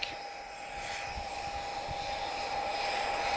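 A Spitfire engine drones steadily during an airshow display at the Portugal Air Summit, a sustained distant whine with a faint broadband rush that swells slightly over a few seconds.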